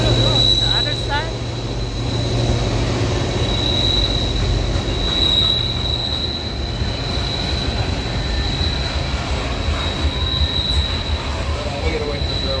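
Railroad cars rolling past at a station, a steady loud rumble with a high metallic wheel squeal running throughout, close by, with faint voices of people nearby.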